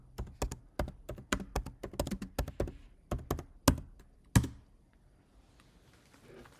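Typing on a computer keyboard, a quick run of crisp close keystrokes for about four seconds, ending with a few harder taps before fading into near silence.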